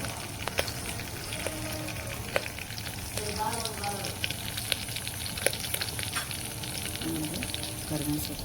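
Cumin, mustard seeds and curry leaves sizzle in hot oil for palak sambar, a close, steady hiss scattered with sharp seed pops and crackles, with faint talk now and then.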